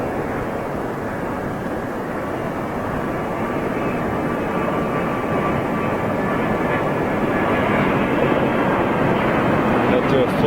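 An airliner drones loudly and continuously as it banks and descends to land at London Heathrow Airport, its broad engine roar building slightly toward the end, with a person talking over it.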